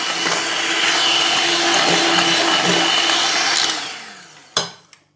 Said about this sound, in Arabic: بعد ما خفقنا البيض حتى صبح رغوي بابيض، نزيدوا الفانيليا، نزيدوا نخفقوا